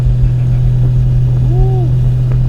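Inside a straight-piped 750HP Nissan R32 Skyline GT-R with a sequential gearbox, a loud steady low engine drone fills the cabin, with a short rising and falling whine from the gears partway through.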